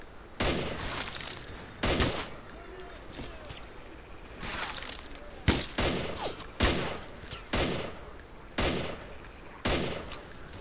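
Repeated gunshots in S.T.A.L.K.E.R. Clear Sky, about nine sharp reports spaced roughly a second apart over a steady ambient rumble, fairly close and loud, with no talking.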